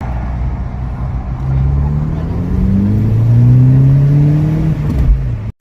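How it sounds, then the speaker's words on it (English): A VW Golf GTI Mk5 2.0 TFSI engine revs up hard under acceleration from about 2000 RPM in second gear, its pitch climbing steadily and loudly before cutting off abruptly at the end. "second gear, 20-30 mile an hour, nice sort of 2000 RPM, and just chuck your foot down"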